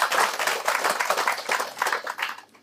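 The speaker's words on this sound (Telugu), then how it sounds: "వాళ్ళకు కూడా మీరు మనం అంతా గట్టిగా చప్పట్లు కొట్టి అభినందనలు తెలియజేద్దాం." An audience gives warm congratulatory applause to a couple, a continuous wash of clapping from many hands that thins out and fades near the end.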